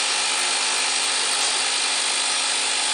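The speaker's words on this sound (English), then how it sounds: "the machine has the capability to drill long holes for cable bolts up to 15 meters in length" A scissor bolter drilling rock-bolt holes underground in a mine, giving a steady, loud, dense drilling roar that runs unbroken and alone throughout.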